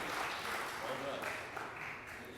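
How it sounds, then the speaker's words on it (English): Soft, distant applause from the audience at a 40th anniversary celebration forms a steady broadband wash, with voices underneath. "That does deserve applause"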